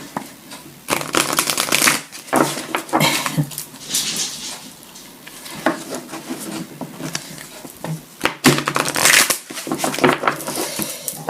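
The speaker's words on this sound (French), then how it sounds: "quand ils remuent les cartes, ils disent on brasse les cartes" Tarot cards shuffled by hand in repeated riffling, rustling bursts with brief pauses between them, close and fairly loud, with no talking.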